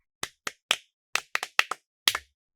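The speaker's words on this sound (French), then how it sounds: "Pouvez-vous applaudir pour Gift?" A classroom of students claps for a classmate, heard as eight or so sharp, separate claps in an uneven rhythm, close and loud, with no talking.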